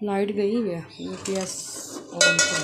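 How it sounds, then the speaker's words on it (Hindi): A metal spoon clinks and scrapes against a cooking pot while stirring, in a few sharp bright strikes, with a person talking over it nearby. "सॉरी चम्मच की आवाज़ आ"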